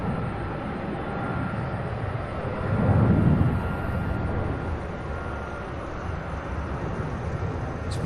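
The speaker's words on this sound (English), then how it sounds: "We have a 767 taking off from 35 right" Boeing 767, a UPS freighter, taking off from runway 35 right at Louisville, rolling as a steady distant roar of jet engines that swells briefly around the third second before holding even and broad.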